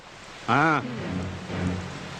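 Rain falls as a steady, soft hiss beneath a brief spoken voice and some quieter murmuring, keeping an even wash of noise throughout.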